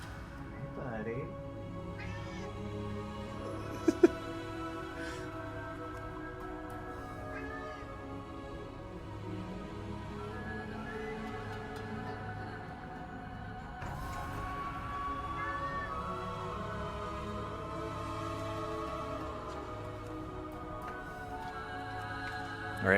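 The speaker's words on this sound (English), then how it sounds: "That's the cat saying hello." A pet cat meows a few drawn-out greetings at close range, mixed in with a person talking and continuous background game sound and music.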